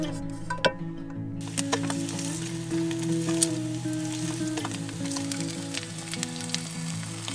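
Bread toasting in a pan with chili flakes, cooked on a small stove inside a van in winter, sizzles and fries steadily throughout with faint clinks, no talking.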